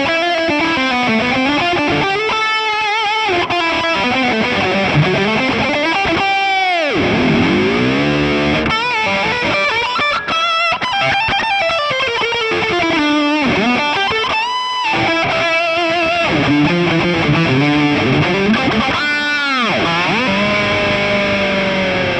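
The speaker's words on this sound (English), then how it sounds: "A little bit of reverb and delay." A Samick electric guitar played through reverb and delay, with sustained notes and bends ringing out continuously and loudly, the echoes smearing each phrase into the next.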